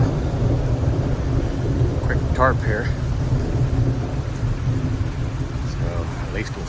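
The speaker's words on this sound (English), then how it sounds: "we done got caught in the storm here." A thunderstorm with steady rain pours over a campsite beneath a quick tarp shelter, with constant loud rainfall, a few thunder rumbles and someone talking briefly over it.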